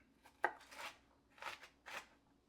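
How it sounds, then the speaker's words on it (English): Crisp knife strokes chopping celery on a cutting board, four distinct crunchy chops spaced unevenly, close and quiet with no talk. "We're also going to be chopping up some celery for a little more texture."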